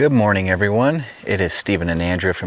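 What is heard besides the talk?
No distinct noise like a dog, phone or traffic.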